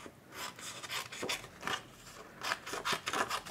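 A craft trimmer slices down a piece of paper for card making, producing a series of close, dry scraping strokes in irregular bursts, with no talking.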